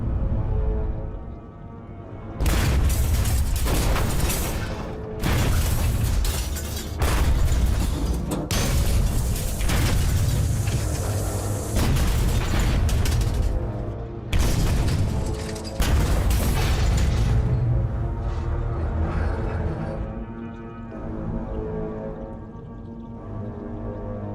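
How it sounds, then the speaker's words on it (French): Depth charges dropped by a Japanese destroyer exploding underwater around a submarine: a long series of deep, heavy booms and rumbling blasts that merge into sustained roaring, then fade toward the end, with no voices. "Il lâche une autre série de grenades sous-marines."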